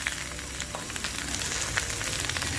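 Yakisoba noodles being stir-fried in a pan, a steady close sizzle with scattered scraping and tossing clicks, no voices.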